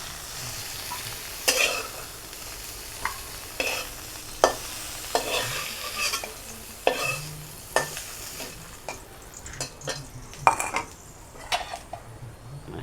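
Gentle sizzling in a pan under repeated metal spoon scrapes and clinks against the pan, spaced stirring strokes heard up close with no talking.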